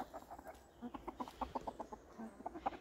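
Backyard hens clucking softly and continuously close by, a cluster of short pecking-like calls at low volume with faint ambient noise.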